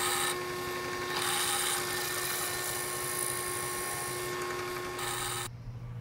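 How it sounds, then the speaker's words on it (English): A high, whining step drill bores steadily through a metal washer for about five seconds, a continuous shrill grind that cuts off abruptly near the end. "I have a step drill. I'm going to drill out the center."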